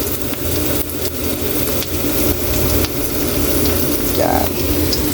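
Tomato paste fries with onions in a pot for beef caldereta, a loud close sizzle broken by stirring scrapes and occasional soft thumps.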